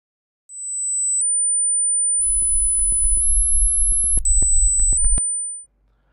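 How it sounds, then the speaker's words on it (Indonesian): A sharp, high-pitched steady tone rings through a phone call for several seconds and steps to a slightly different pitch a few times. Low rumbling crackle and clicks run underneath it partway through. "atau suara tajam seperti nging saat kamu berbicara via telepon biasa"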